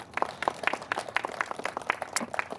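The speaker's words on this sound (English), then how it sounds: "Can we get a round of applause to them?" Audience at an Irish flag raising clapping, a fairly close patter of individual hand claps in an irregular, steady rhythm, moderately quiet with no talking over it.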